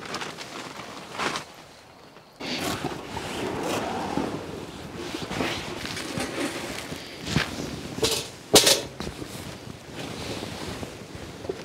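Strong seaside wind buffets the microphone in loud gusty surges over a wash of surf, with irregular thumps and rustles throughout.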